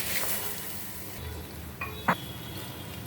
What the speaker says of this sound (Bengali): মশলা আর পেঁয়াজ দিয়ে একটু ভেজে নেব।